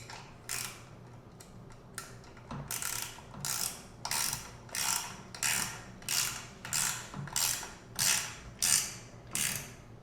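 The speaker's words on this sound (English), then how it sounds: "you're going to crank down these 3 motor mount bolts with a 10mm wrench" A 10mm ratcheting wrench tightens motor mount bolts, starting with a few quiet clicks and then a steady run of about a dozen crisp ratcheting bursts in an even rhythm, close and alone.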